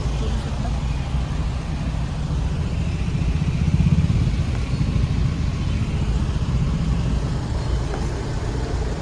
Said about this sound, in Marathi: तर आता मला लागलेला आहे ट्रॅफिक